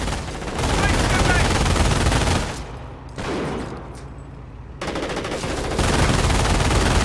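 Half-track machine gun fire in the video game Company of Heroes, long continuous rattling bursts with a brief lull in the middle, loud and dense battle noise throughout.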